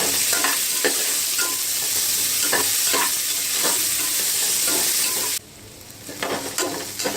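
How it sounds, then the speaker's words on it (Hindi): Onions sizzle steadily as they fry in a pan while a spoon scrapes and stirs in regular strokes, close and fairly loud, the frying hiss dropping away near the end. "अब हम इसमें प्याज डालेंगे। और इसे भून लेते हैं।"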